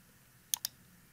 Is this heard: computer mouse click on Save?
yes